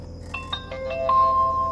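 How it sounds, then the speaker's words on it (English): A short electronic chime of several rising tonal beeps from a Pormido PRD80 mirror dash cam starting up ends in a sustained tone, heard over a low idling car engine rumble. "There it goes, you hear it, the dash cam come on."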